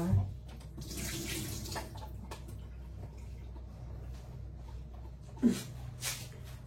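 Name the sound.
rinsing tomatoes under a running tap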